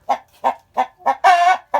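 Brahma hens clucking nearby in a steady rhythm, four short clucks followed by a longer, drawn-out squawk, then another cluck.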